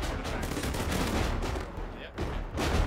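Artillery shells from a fire mission in the video game ArmA 3, set in Vietnam-era jungle, boom in dense overlapping explosions and gunfire, loud and continuous with a brief lull before another blast.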